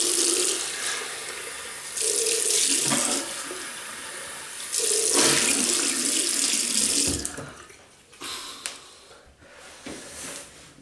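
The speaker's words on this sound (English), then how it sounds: "Rinse off." Tap water runs loudly from a faucet to rinse a 1956 USA-made Gillette Heavy Superspeed Red-Tip safety razor, flowing steadily in long bursts, then breaking into shorter, quieter splashes near the end.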